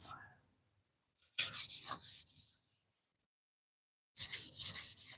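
A tool rubbed smoothly along the length of a sole in two bursts of steady rasping strokes, separated by a silent pause, close and moderately loud.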